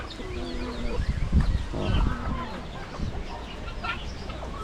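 Chickens and chicks on a farm cluck and peep in short scattered calls, close by, over a low background of yard noise, with a brief human exclamation.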